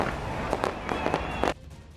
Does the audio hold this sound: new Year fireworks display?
yes